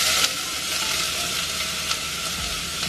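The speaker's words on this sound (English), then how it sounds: "So we're gonna saute this just until the vegetables start to get a little translucent." Half an orange pepper and a red onion sautéing in about a tablespoon of oil, a loud, dense, continuous sizzle close up with a couple of faint stirring clicks; no talking.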